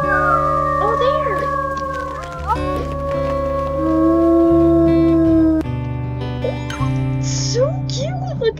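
Several wolves in the video game WolfQuest 3 howl together, long sustained wavering tones overlapping over game music, with a few higher yips near the end, fairly loud and close.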